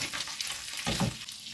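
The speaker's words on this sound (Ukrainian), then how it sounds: "Трошки перемішую, щоб добре просмажився чесничок." Soft sizzling of garlic frying in a pan, with a brief stirring scrape partway through.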